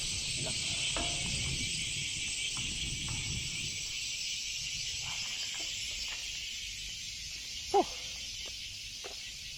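Crickets chirp in a constant high, shrill drone that fills the background, with a few soft rustles and one brief sharp noise near the end.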